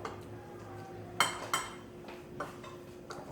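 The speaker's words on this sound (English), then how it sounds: "I'm gonna finish stirring this one that Stephanie was making, and I'll put it into a bowl" A spoon clinking and scraping in a bowl while food is stirred, a few sharp isolated knocks spaced apart over a faint steady hum, quiet and close.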